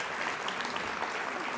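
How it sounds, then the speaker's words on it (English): An audience at an interfaith gathering applauding the Louisville mayor, a brief burst of dense, even clapping from many hands filling the room. "And an applause for him too."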